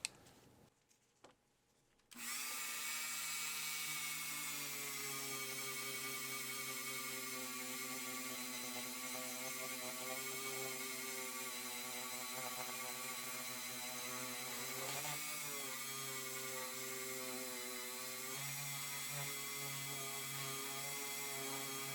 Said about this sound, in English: I will now give it a quick polish using one of my cloth buffing wheels here